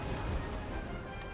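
Cannon fire in the Napoleon: Total War video game, a dense, rumbling barrage of booms that fills the whole short stretch at steady loudness, with no talk over it.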